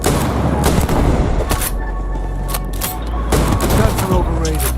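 Gunfire from the Starfield video game rattles in dense, overlapping bursts and booms, loud and continuous, with some talk mixed in underneath.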